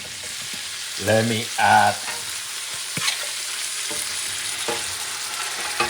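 Onions sizzling and being stirred in a hot pan before flanken short ribs and marinade are added, a loud, steady frying hiss with a few scrapes and knocks, briefly under a voice.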